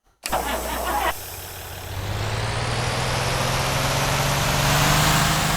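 A car engine in a video game cranks briefly with a whirring starter, then catches and settles into a steady, slightly rising, tinny idle hum.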